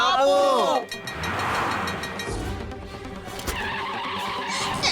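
A cartoon car brakes hard and skids to a stop with a long, loud tire screech that fades out, while cartoon voices speak over it.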